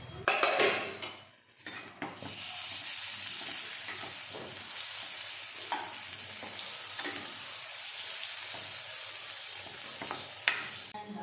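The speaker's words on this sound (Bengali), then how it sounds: "সুন্দর করে বেগুন আমি ভেজে নিয়েছি" Eggplant fries in a pan with a steady, close hiss and sizzle that carries on for several seconds, opening with a brief clatter of a lid or utensil.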